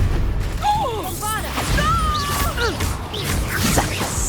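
A Confringo spell explosion bursts in Hogwarts Legacy combat, loud booms and crackling blasts layered with whooshing magical effects and a creature's cry, dense and continuous over the clip.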